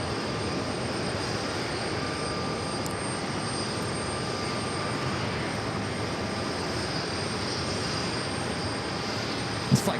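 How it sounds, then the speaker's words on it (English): An Airbus A220-300 arriving from Buffalo taxis into gate 4 at JFK Terminal 5, heard as a steady, faint engine hum and whine with a broad airport rumble beneath, unchanging throughout and without voices. "you can barely hear this A220-300 pulling into gate 4 of Terminal 5"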